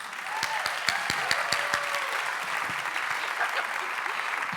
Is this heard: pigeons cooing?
no